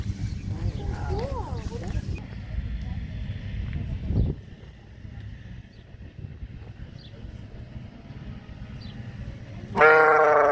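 Rainbow-colored sheep at a farm ahead of a shearing weekend bleat in a few short, wavering calls near the start and a louder burst at the very end, over steady background noise and rumble.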